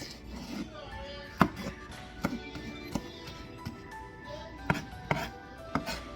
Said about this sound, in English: Now I'll get them chopped up.